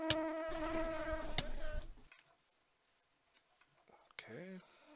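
Wasps in a Minecraft-style game make a high, whining buzz with harmonic tones, rising loudly for about two seconds, fading away, then a shorter buzz returns near the end.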